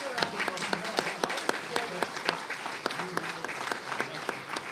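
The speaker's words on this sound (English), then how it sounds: "Please, let's give them a round of applause." At a Republican primary debate event, a modest audience claps in scattered, distinct slaps, a sparse and fairly quiet round of applause heard with some voices.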